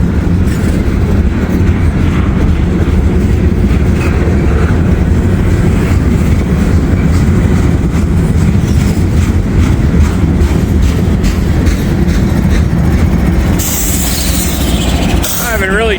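A freight train with a distributed power unit locomotive mid-consist rolls steadily past at close range, a loud continuous rumble of wheels and railcars with faint squeals, near Cincinnati Union Terminal.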